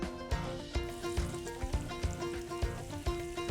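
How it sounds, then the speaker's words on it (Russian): Onion sizzles and crackles in hot vegetable oil, a steady frying hiss with small pops, close and fairly quiet, no talking. "Доливаем немного, грамм 50 растительного масла, и опускаем жариться лук."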